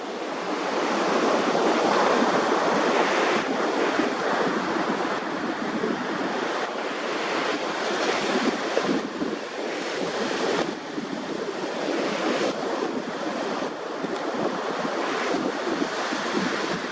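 Ocean surf rolls steadily at the Cherry Grove Fishing Pier in North Myrtle Beach, South Carolina, a loud, continuous wash of breaking waves with wind buffeting the microphone throughout.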